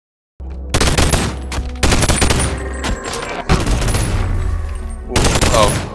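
MK18 rifle fired in the video game BoneLab, loud rapid automatic bursts in several separate strings with brief gaps between, close and sharp.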